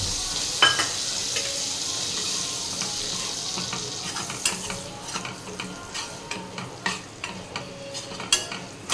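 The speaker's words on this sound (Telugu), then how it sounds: "శనగపిండి సో మంచిగా నెయ్యిలో వేపించుకోవాలి" Gram flour frying in ghee, a steady close sizzle with soft scraping stir strokes that grow more frequent and sharper toward the end.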